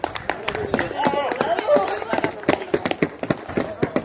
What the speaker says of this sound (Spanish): Un aplauso por la gran batalla que ha habido.